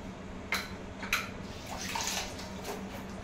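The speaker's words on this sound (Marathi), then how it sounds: "मिरच्या पण धुवून घेत आहे" Green chillies being rinsed under running water in a home kitchen while preparing solkadhi, a soft, steady splash and trickle with a few light clatters, faint and close, with no talking.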